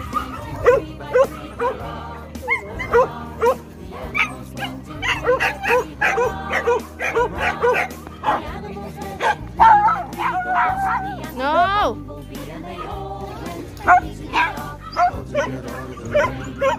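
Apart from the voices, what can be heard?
dog barking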